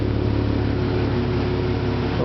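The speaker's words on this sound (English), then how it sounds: "It's really actually a pretty quiet exhaust system." A 2025 Jeep Gladiator Nighthawk idles through its exhaust, a steady low rumble with an even pulse, fairly close and continuous, no voices.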